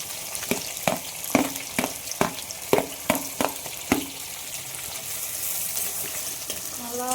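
Onions fry in a pan for country chicken varuval, with a run of rhythmic spatula knocks over the sizzle that then settles into a steady, even frying hiss.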